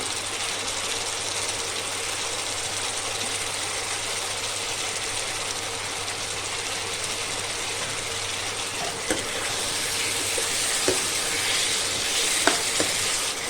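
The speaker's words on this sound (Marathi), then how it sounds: "त्याला आपण थोडंसं परतून घेऊया पहिल्यांदा" Mixed vegetables for veg biryani sauté in a pan, giving a steady, even sizzle throughout with a few faint clicks of a spoon stirring near the end.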